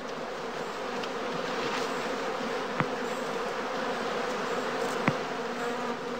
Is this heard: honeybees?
yes